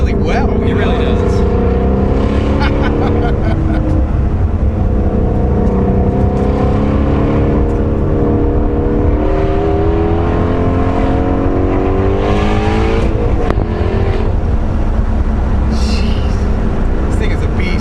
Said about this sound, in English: For me, the sounds on those downshifts are just the best.